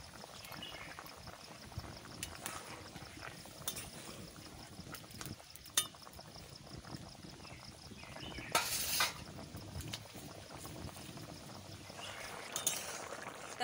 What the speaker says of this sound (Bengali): মাছ দিয়ে দিচ্ছি।